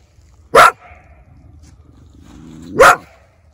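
A trapped coyote gives two sharp, loud barking yelps about two seconds apart, close by, with quieter whining between them.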